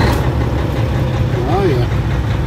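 Peterbilt 379 diesel truck engine idling steadily with a low, throbbing rumble, a brief rising whine cutting through midway, the engine close and continuous throughout.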